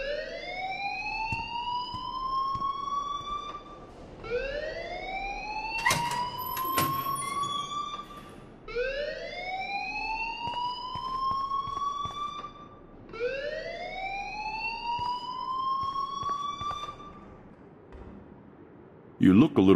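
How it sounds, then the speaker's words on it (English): A rising, wailing alarm sweeps up over and over in Life is Strange, each cycle climbing in pitch and repeating steadily at a moderate level, with a few short clanks between the sweeps. "please turn off that alarm"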